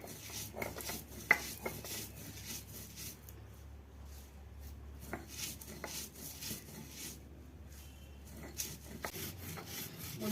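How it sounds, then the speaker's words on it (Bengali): Steady rubbing and scraping of olive pickle spices being ground on a sil grinding stone, a quiet continuous rasping with small irregular knocks, close by and without speech. "এবার আমি একটা শিলে বেটে নেব।"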